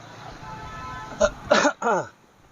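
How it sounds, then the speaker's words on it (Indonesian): A few short coughs or throat-clearing bursts, close and fairly loud, coming in quick succession over a low background hum in a used-car showroom. "Agak batuk dikit bos."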